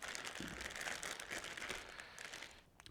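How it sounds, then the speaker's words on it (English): Plastic bag of potatoes being cut open with scissors in a kitchen, a faint, continuous crinkling and rustling of plastic with small snips and crackles throughout, no voices. "Take a pair of scissors, open your bag nice and carefully"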